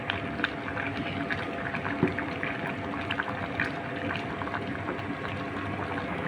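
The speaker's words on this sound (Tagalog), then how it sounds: "kumukulo na po yung ating munggo" A pot of mung beans with leafy vegetables at a steady boil: continuous dense bubbling and simmering with scattered small pops, close and moderately loud, no talk.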